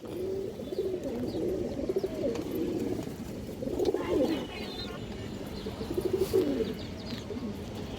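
Two pairs of Kaldum pigeons at a farm selling high-flyer birds coo in throaty rolling phrases, with a few swelling bursts that stand out from a steady murmur. The birds are close and no voices are heard.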